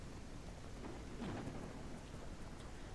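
Rain falls steadily in a storm in The Legend of Khiimori, a continuous soft hiss with a low rumble of thunder swelling briefly in the middle.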